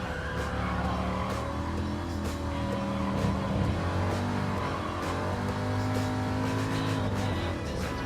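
A race car in Gran Turismo Sport brakes and shifts, its engine note falling and rising with shifting pitch amid continuous game engine drone, loud and steady throughout.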